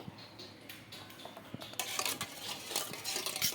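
A spoon stirs hot water mixed with baking soda and salt in a bowl, giving quiet scraping swirls and light metallic clinks and ticks that grow busier toward the end, with no talking.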